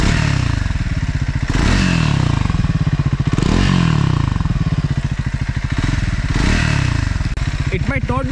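Triumph Scrambler 400X motorcycle engine rising and falling through several throttle pulls, loud and close, with someone talking over the engine note.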